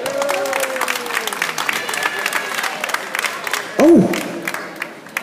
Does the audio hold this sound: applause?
yes